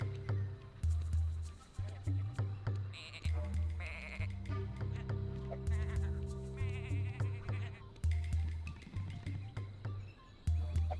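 Sheep in Tak and the Power of Juju bleat over and over in short, wavering calls, the repeated cries set against light game music and effects.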